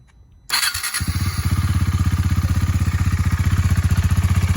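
A 2020 KTM Duke 390 engine fires up and settles into a steady, fairly quiet idle through its stock exhaust, with a rhythmic, even putter, close by.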